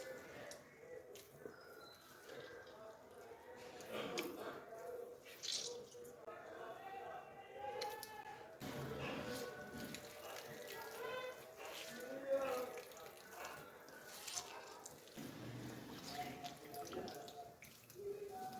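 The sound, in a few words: squeezing water out of boiled radish by hand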